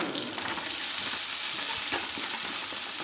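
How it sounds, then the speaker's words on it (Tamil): Small and big onions sauté in a pan for a drumstick leaf stir-fry, with a steady, soft frying sizzle and faint stirring scrapes and no talking. "வெங்காயம் நல்லா வதக்கிக்கலாம்."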